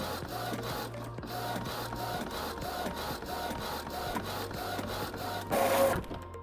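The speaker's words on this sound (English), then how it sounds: "Then you may press the print button." A Sawgrass Virtuoso sublimation printer runs a print job, with rhythmic mechanical clicks, a repeating low motor hum and brief whirring passes. A louder burst of activity comes near the end, with no talking.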